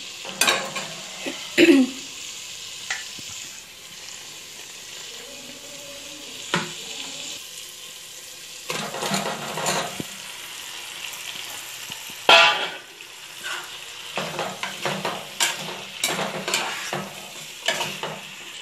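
Local chicken sizzles in a pan with brinjal, a steady frying hiss broken by repeated clattering stirs and scrapes, some louder knocks and a brief splash of water along the way.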